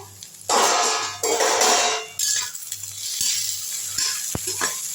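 Vegetables with green chillies and tomato sautéing in a pan for veg biryani, bursts of loud sizzling hiss as they are tossed, with spoon clicks and scrapes between, close up over a faint low hum.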